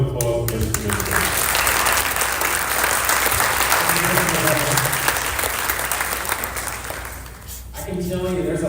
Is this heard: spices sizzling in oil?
no